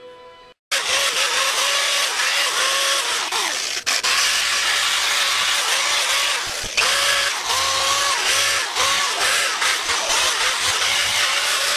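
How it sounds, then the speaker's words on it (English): A small pointed power sander works a motorcycle wheel during an FZR restoration. It gives a loud, close, continuous whine that wavers in pitch as it presses and lifts, with brief dips and restarts. "I found that the pointy little sander that I have seems to get in here"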